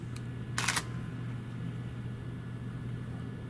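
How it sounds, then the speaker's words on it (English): A single SLR camera shutter click, sharp and close, taken on a live-view DSLR during a product photography setup, over a low steady hum. "press the shutter button once"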